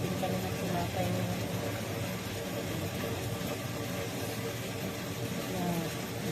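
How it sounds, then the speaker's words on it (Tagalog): A bread-making machine runs, kneading dough, with a continuous low motor drone and people talking over it. "Nag-andar ang makina natin ng tinapay."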